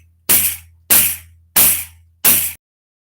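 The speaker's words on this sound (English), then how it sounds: "the first technique is the thumb, okay? And the sound you're going for is a nice bass open tone" Four evenly spaced bass open tones on a pandeiro, each struck with the thumb for a deep thump with a jingling ring that decays quickly, played alone against silence.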